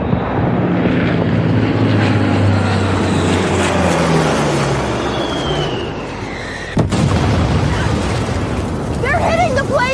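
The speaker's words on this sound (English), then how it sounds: "They're hitting the planes on the ground!" An air strike hits Egyptian military jets parked on the ground in June 1967. Loud, continuous aircraft engine roar is mixed with heavy rumbling blasts, and a sharp impact cracks out near the end.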